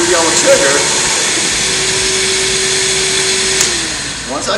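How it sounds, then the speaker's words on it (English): A Kärcher BR 3512 Bp floor scrubber's vacuum and spinning brush roar steadily at close range, a constant loud mechanical whine that fades slightly near the end. "The solution's gonna flow, my brush is gonna spin, and my vacuum kicks on."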